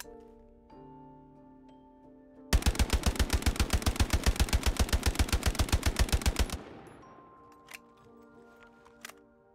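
A Grease Gun submachine gun fires in Hell Let Loose: one loud, sustained full-auto burst of about four seconds with an even, rapid rhythm, then a fading echo and a few faint clicks.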